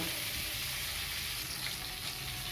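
Shrimp frying in hot oil give off a steady, dense sizzle that holds at an even level throughout, close by, with no voices.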